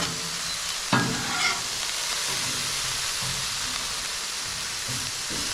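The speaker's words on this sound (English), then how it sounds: "Get grilled onions on them." Onions fry on a Blackstone griddle outdoors with a steady hissing sizzle throughout, broken by a scraping stir near the start and a few soft knocks.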